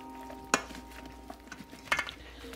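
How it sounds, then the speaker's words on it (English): Zucchini chips tossed with oil in a bowl: two crisp clinks of utensil against the bowl stand out over faint, steady wet stirring and soft rustling, quiet and close. "just give it a good mix so that your zucchini chips get coated pretty well"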